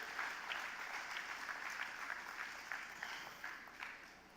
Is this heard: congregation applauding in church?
yes